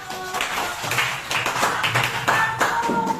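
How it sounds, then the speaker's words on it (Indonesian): Applause for a student group after a presentation in a university class, a short burst of scattered clapping from a modest audience, with some voices mixed in. "Aplaus untuk kelompok 1."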